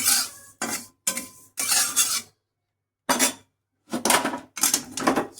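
Roasted fennel seeds being tipped from one cooking pot into another, giving bursts of metallic scraping and rattling of utensils against the vessel in several short spells separated by silent gaps.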